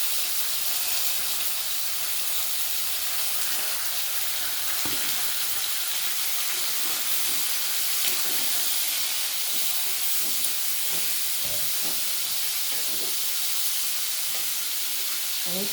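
Potatoes hitting hot oil in a pan for a Bengali spring onion greens dish, a loud continuous sizzle and steamy hiss with faint stirring clatter, steady throughout.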